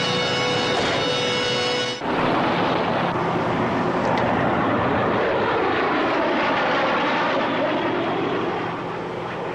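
A jet aircraft roars low overhead with a loud, sustained engine rush that swells and holds, its pitch sliding as it passes, with no voices in a scene from a 1960s TV drama.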